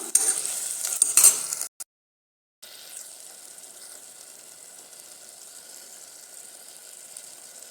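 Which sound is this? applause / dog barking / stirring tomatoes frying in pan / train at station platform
stirring tomatoes frying in pan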